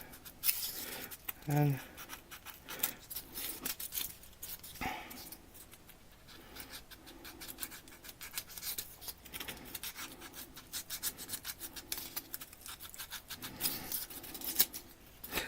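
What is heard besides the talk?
X-Acto knife cutting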